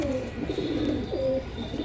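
Pigeons in a Bardhaman loft give repeated low, throaty coos, a couple of warbling phrases close at hand over a quiet hum of surrounding noise.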